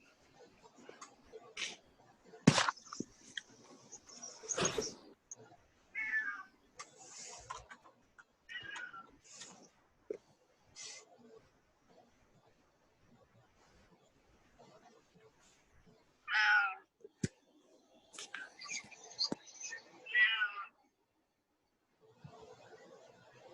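A house cat meows now and then close by among quieter stretches, with scattered short sounds and a few brief bursts of activity between the calls.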